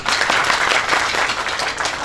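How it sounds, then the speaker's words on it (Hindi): Loud, dense applause from the crowd at an Urdu poetry mushaira, an Eid Milan gathering in Sakinaka, Mumbai, with many hands clapping in a strong, continuous burst. "तो एक बार उनके लिए जोरदार तालियां"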